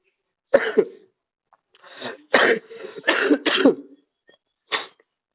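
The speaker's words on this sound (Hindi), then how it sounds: "थोड़ा सा खांसी हो गया" A series of harsh, close coughs, about five or six, some clustered together with short silent gaps between them.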